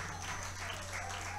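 A church congregation at a Sunday worship service applauds, a dense, steady wash of clapping that fills the whole moment over a low constant hum.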